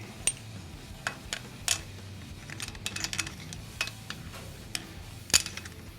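Push rods being fitted into a Harley-Davidson Evolution engine during a rebuild, heard as sparse, irregular metallic clicks and light taps, close and quiet, with no talking.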